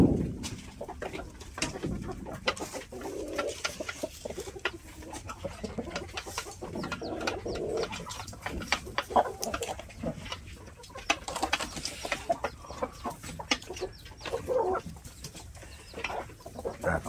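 Rhode Island Red and Black Australorp chickens clucking and pecking while feeding on chopped vegetables and feed, a continuous mix of soft clucks and scratching, fairly quiet and close.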